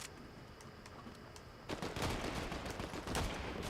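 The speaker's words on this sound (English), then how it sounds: "Oh, he sniped me." Video game gunfire: faint, scattered shots at first, then a louder stretch of rapid, repeated cracks and bursts, with no talking.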